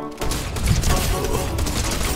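A drum shotgun firing in Fortnite, a rapid burst of loud, closely spaced blasts filling the short stretch after a brief pause at the start.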